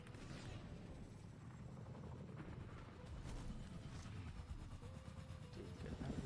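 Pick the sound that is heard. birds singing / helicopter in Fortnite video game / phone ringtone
helicopter in Fortnite video game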